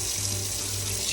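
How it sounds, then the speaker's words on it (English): Cold tap water runs steadily into a kitchen sink while chicken meat is washed for Jamaican brown stew chicken, a loud, continuous rushing stream with a low hum beneath and no talking. "you always want to wash your meat with cold water"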